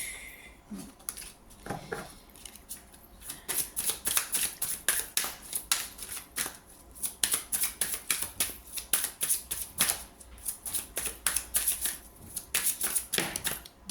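Oracle cards being shuffled and drawn in a weekly guidance reading, with sparse handling at first, then a long run of quick, rhythmic riffling shuffles, close and crisp.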